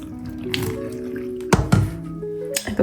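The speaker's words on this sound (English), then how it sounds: "I have my boiling hot water ready, and I am just going to pour onto this doll's hair." Boiling hot water poured onto the hair of a 1960s Barbie doll during a restoration, heard as close trickling and splashing with a few sharp drips and knocks.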